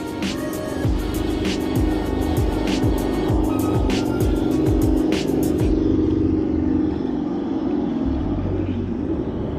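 Traxxas TRX4 K5 Blazer RC car running by a river, its motor whirring in loud bursts over steady water rush and a continuous low rumble, with sharp clicks and taps from the chassis over rocks early on.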